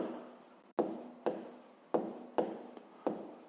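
Pen or pencil writing on paper during a fifth-grade maths exercise, a series of about six short scratchy strokes spaced roughly half a second apart, close and fairly quiet, with no talking.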